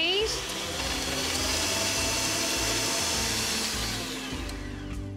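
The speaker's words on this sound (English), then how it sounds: "And now we're just going to turn up that speed." An electric mixer whips cake batter for a hummingbird cake at a raised speed, giving a steady, loud continuous whir that holds for several seconds with no talking over it.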